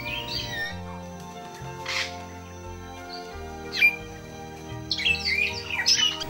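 Grey parrots released from an aviary in Africa give scattered whistles and squawks over a steady, layered musical background, with a few sharper calls toward the end.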